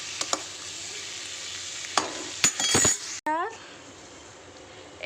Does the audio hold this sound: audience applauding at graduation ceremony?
no